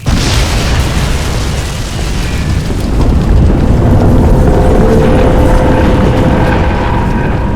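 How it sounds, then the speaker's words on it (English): A big explosion in Crysis 2 Remastered, a loud sustained rumbling blast with deep roaring low end that rolls on for several seconds, alone without talk. "Explosion imminent."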